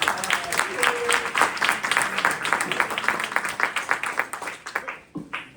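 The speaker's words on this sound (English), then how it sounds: "And can we give her a round of applause?" An adult audience at a community arts event in Greenburgh applauds Sarah Bracy White, many hands clapping in a fairly close, uneven rhythm that thins out and stops near the end.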